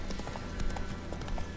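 Horse hooves clip-clopping in the video game The Witcher 3, a quick run of steady hoofbeats at moderate level over a background game ambience.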